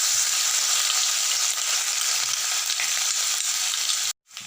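Crushed ginger, garlic and green chili dropped into hot oil for chicken kondattam, a loud, bright, continuous sizzle up close that cuts off abruptly near the end before resuming faintly.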